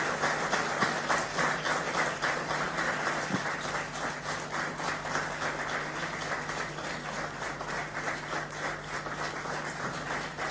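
Sustained crowd applause at an award ceremony honouring HPSC rank holders, steady and dense clapping throughout with no pauses and no talking.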